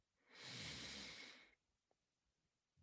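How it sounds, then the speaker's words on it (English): A single deep breath is drawn in slowly during a guided breathwork meditation, a close, breathy rush lasting about a second and a half and then fading into near silence. "Let's take 3 more intentional deep breaths together."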